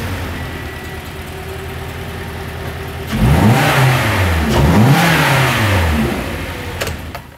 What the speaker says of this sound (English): I'm gonna start the engine right now, and we're gonna see how it runs